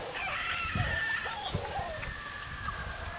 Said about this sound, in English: Interesting bird, I don't know what that is.